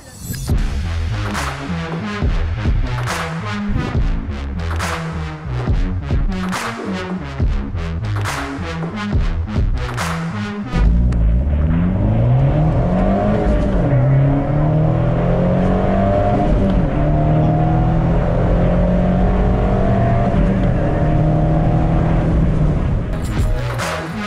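An Abarth car, a 595 Competizione or 124 GT, drives along the road toward the Magny-Cours circuit near Nevers, its engine a loud, close, steady drone with shifting pitch; rhythmic pulsing thumps dominate the first half.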